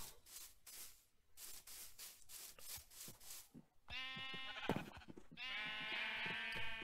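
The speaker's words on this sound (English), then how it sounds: "It's like a mob of sheep down there." Sheep bleat in a Minecraft world, with several harmonic calls in the second half, some overlapping in a steady flock chorus after a stretch of scraping game noise.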